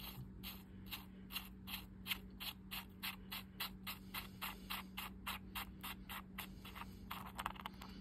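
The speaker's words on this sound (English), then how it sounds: "Once you've done that, now your pinion comes loose and unscrews." Pinion being unscrewed on a vintage RU-Mer Super fishing reel, a rapid run of small ratcheting clicks recorded up close and quiet, with light mechanical handling toward the end.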